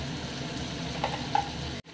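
Chopped tomatoes and a paste of curry leaves, garlic and peanuts fry in a pan with a steady, close sizzling hiss and a faint scrape of stirring. The sound cuts off abruptly at the end.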